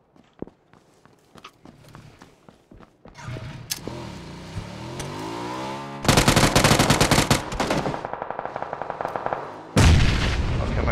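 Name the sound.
burst-mode gunfire in PUBG video game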